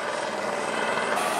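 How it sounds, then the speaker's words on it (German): A helicopter approaches and flies toward the listener, giving a steady, loud broadband rotor and engine roar that continues without pause and without speech. "Also ich glaube, das ist nicht nur mein erster Helikopterflug."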